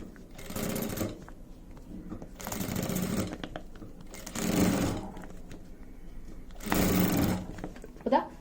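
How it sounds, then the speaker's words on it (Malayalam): A sewing machine runs in four separate bursts while stitching along a fabric edge, each loud whirring run lasting about a second with quieter handling noise between them. "നമുക്ക് ഈ അരികൊന്ന് സ്റ്റിച്ച് ചെയ്ത് കൊടുക്കാം"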